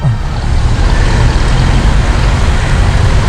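Low, steady road traffic rumble on a busy street, a constant wash of engine and tire noise heard up close with no voices.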